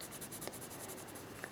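Pencil colouring in a drawing in red, a soft, close scratchy shading with quick repeated strokes, faint and alone.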